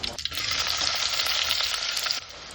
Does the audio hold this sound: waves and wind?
no